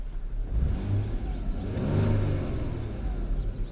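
Peugeot 407 Coupe V6 engine, in a car with a hesitation and misfire fault, revs up steadily and loudly nearby, a deep rumbling drone that rises and swells before easing back slightly.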